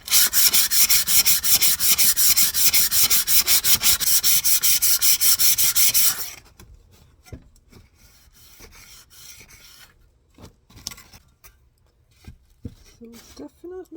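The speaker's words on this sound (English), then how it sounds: "I'm gonna switch to a finer sandpaper now." Hand sanding of a rusty old shovel with finer 120-grit sandpaper: fast, rhythmic scratchy strokes, loud and close for about six seconds, then stopping, leaving faint handling noises and a few small clicks.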